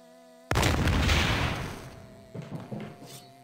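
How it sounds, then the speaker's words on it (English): Cannon firing in the Thief fan mission Fables of the Penitent Thief: one sudden loud boom with a long rumbling decay, followed by a few softer thuds and rattles. "Shoot ourselves out of the cannon."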